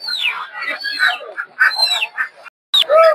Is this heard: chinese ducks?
yes